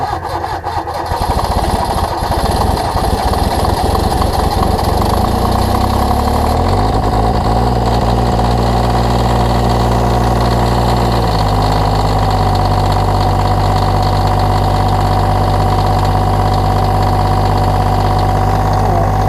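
Engine started in cold snowy conditions settles into a loud, steady idle while warming up, its low throbbing hum shifting pitch a couple of times early on before holding even.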